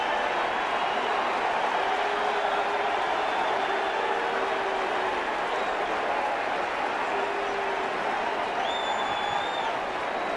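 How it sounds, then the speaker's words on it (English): A Yankee Stadium crowd of tens of thousands roars and applauds after a Bonds home run for the Giants: a dense, sustained wall of cheering with scattered whistles and shouts throughout. "listen to the Yankee Stadium crowd as Bonds rounds the bases"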